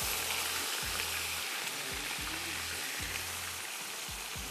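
Onions for chicken pulao fry in a pan with a constant hissing sizzle, steady and moderately quiet, over a faint repeating low thump, with no talking.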